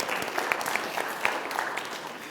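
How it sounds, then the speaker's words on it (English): A church congregation applauds during a Sunday service, a steady patter of many hands clapping at moderate volume with no one talking. "Let's give them a round of applause."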